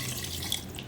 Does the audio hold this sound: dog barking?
no